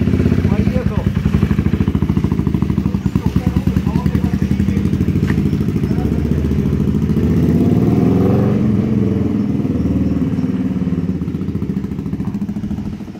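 A motorcycle with a manual gearbox idles with a throbbing, pulsing engine note, then gently revs and pulls away in first gear, rising in pitch; a voice talks over it.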